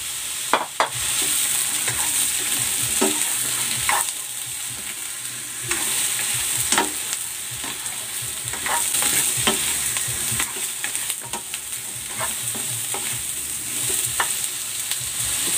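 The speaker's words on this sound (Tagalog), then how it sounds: "Igigisa ko na dito itong patola." Patola sponge gourd sautés with onion in a hot pan, a steady close sizzle broken by repeated stirring scrapes and clinks throughout.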